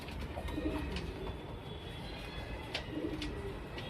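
Soft, low pigeon coos repeat a few times over a steady background hum, faint and somewhat distant.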